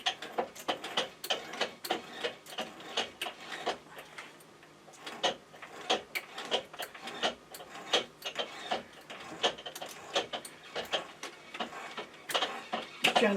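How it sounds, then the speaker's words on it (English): Die held in a die holder being turned by hand to cut a 3/16 by 40 thread on a hexagon bar, a quiet run of irregular ticking and creaking clicks repeating close by throughout. "So I've got my die in the die holder, and we can start to cut this thread."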